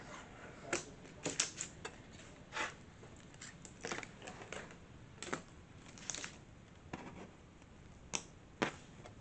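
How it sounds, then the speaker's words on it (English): Tape peeled off the back of a sublimation vanity tag, a series of short crackling rips and ticks, close and fairly quiet, spread unevenly through the moment with no speech. "I'm just pulling off the tape on the back of it."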